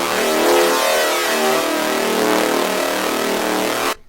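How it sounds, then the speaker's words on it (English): A bright, buzzy synthesizer tone with a dense, detuned sawtooth character and metallic FM shimmer drones loudly for several seconds before cutting off abruptly. "I believe that it's also got some FM on it, yeah, with another detuned saw wave."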